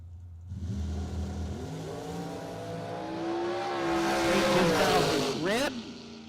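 A junior dragster launches down a drag strip, its small engine note climbing in rising harmonic sweeps with a brief sharp rise and drop near the end, loud and close over constant track ambience.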